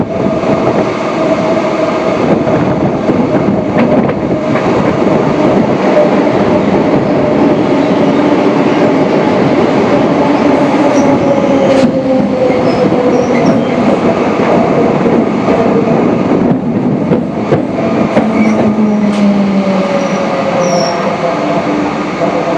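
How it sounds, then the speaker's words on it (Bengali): Passing Howrah–Bhopal express train overtaking heard from aboard a MEMU train, a steady loud rumble of wheels and carriages running throughout with occasional squeals and rattles. "ওভারটেকেন বাই আ হাওড়া ভোপাল।"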